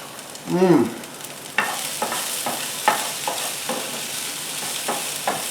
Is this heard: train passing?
no